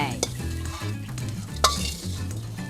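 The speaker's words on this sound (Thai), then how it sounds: "เสร็จแล้วหนูรีบเทลงกระทะเลยนะ" Shrimp stir-fried with chili and salt in a pan, a steady close sizzle with a spatula scraping and clanking against the pan in a few sharp hits, no talk.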